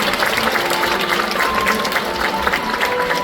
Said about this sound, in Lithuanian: aš manau, kad jie verti didesnių jūsų plojimų